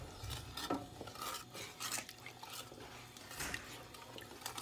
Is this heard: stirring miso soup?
yes